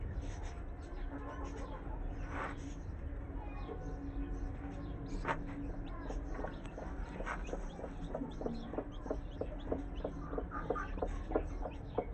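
A mother hen mutters low clucks while newly hatched chicks give soft, scattered peeps around her, faint and close over steady background hum.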